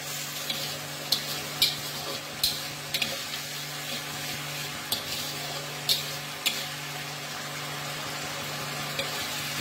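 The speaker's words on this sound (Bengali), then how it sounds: "এবার এটাকে খুব ভালো করে কষিয়ে নেব" Turmeric, cinnamon and coriander powder fry and get stirred hard with mashed green banana in a pan for kofta, a steady soft sizzle broken by occasional sharp spoon scrapes and clicks.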